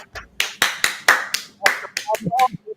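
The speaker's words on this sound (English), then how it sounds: "Round of applause" A few sharp, close hand claps in an irregular rhythm, roughly a dozen over under three seconds, with a voice speaking briefly near the end.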